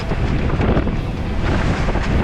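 Strong wind roars at sea near the Sept-Îles off Brittany, buffeting loudly and steadily with deep rushing gusts and splashing water close by.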